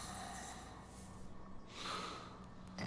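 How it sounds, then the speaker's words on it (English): Characters snoring while waiting in the video game Baldur's Gate, faint snorting and breathy inhales and exhales from voice actors, soft and close with a couple of rasping snores. "I love that if you're waiting, you can hear everyone snoring."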